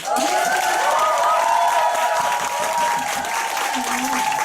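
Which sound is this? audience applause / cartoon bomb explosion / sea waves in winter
audience applause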